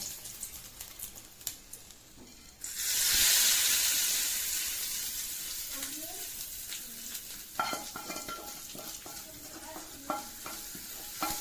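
Hot tempering with urad dal is poured over capsicum chutney in a home kitchen, setting off a sudden loud sizzle that slowly fades, followed by light stirring and clinking.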